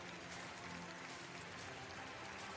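Crowd applause at a Longines show-jumping Grand Prix, a steady dense wash of clapping heard from a distance, faint and continuous throughout with no break.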